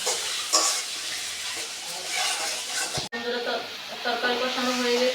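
Tangra fish curry in a pan hisses and sizzles steadily as it is stir-fried. A short clatter of the stirring spoon comes near the middle, and a voice speaks faintly over the frying.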